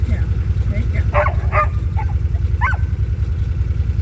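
Sled dogs bark and yip in short bursts a little way off, several scattered calls over a steady low engine-like rumble, with voices in the background.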